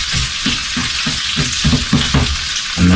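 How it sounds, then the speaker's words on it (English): Onion pieces frying in hot oil while being stirred, a loud dense sizzle with rhythmic low scraping strokes of a utensil against the pan, close up and without talk. "And then I'm just gonna give that a little stir, make sure those onion pieces get broken up."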